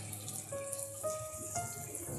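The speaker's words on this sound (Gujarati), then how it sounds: "થોડું પાણી" A small amount of water is poured in a home kitchen while cooking Gujarati bajra rotla with garlic olo, a faint, steady trickle heard close and alone.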